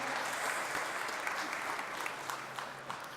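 Applause at a French industry awards ceremony for a presenter of trophies, a steady moderate clatter of many hands sustained throughout at medium distance.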